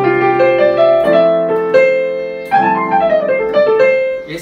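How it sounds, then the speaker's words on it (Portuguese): Piano notes played one after another in a clear melodic run, each key strike ringing out with sustained harmonic tones, close and fairly loud with no voices. "Esse som que a gente está ouvindo é do piano."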